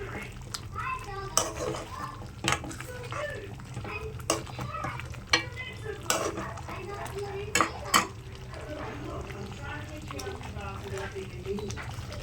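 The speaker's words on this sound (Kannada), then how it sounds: "ಚೆನ್ನಾಗಿ ಫ್ರೈ ಆಗಲಿರೋ ಫ್ರೈ ಆಗೋದ್ರಲ್ಲೇ ಟೇಸ್ಟ್ ಇದೆ" Green masala chicken gravy frying in a pan while being stirred, with a soft steady sizzle and scattered clinks of a spoon against the pan, under frequent talk.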